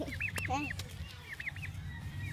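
A turkey, being tickled, gives a run of quick, rising honking calls in bursts, close by, with a low rumble and faint background noise underneath.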